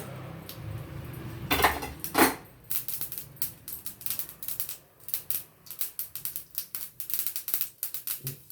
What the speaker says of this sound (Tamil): இப்போ ரைத்தாவுக்கு கொஞ்சம் தாளிச்சுக்கிறேன். இதுக்கு கொஞ்சம் கடுகு, ஒரு 2 உளுந்தம்பருப்பு,